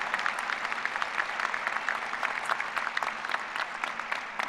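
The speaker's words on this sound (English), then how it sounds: "Let's give him one more round of applause." Applause from the audience at a university graduate school commencement ceremony, a broad, even wash of many hands clapping in a large hall, steady and moderately distant.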